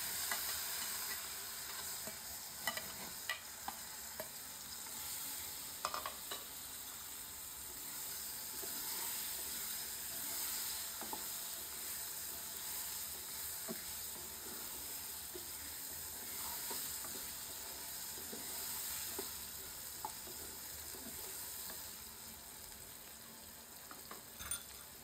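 Eggplant for achari begun fries in hot oil, a soft continuous sizzle and hiss with occasional stirring taps and scrapes, fairly faint and steady with no talking.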